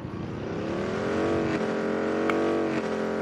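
Vehicle driving in PUBG, a loud close engine note rising and sliding in pitch as it accelerates and drifts, continuous throughout, with no talking.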